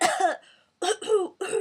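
A person repeatedly clears the throat during a singing warm-up, forcing out mucus in several rough, voiced bursts with a short silent gap between them, close and fairly loud.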